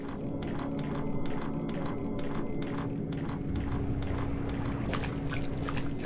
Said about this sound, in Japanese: なんか水の音がするのがすげえ怖いな